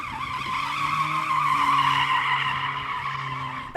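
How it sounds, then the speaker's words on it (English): Mercedes-AMG A45 S, a four-wheel-drive hatchback in drift mode, sliding with a long, loud, sustained tire squeal over a droning engine, rising and holding before fading slightly at the end. "that Mercedes has a very clever drift mode where it can somehow slide even though it's a 4-wheel drive car with a front-wheel drive bias"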